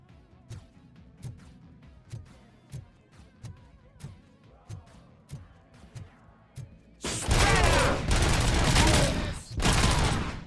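Gunfire in the video game Robocop: Rogue City comes as a steady series of single shots at an even pace, then bursts into loud, dense rapid fire with crashing impacts.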